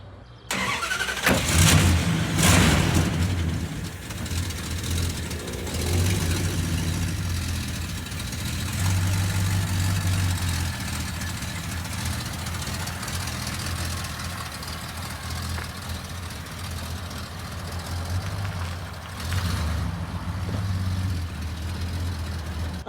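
A 1973 VW Sport Bug engine cranks and catches, then settles into a steady, rumbling idle that runs on for about twenty seconds close by.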